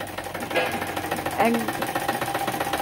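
A sewing machine hums steadily while stitching niqab fabric onto a belt, its motor running under brief bits of nearby talking.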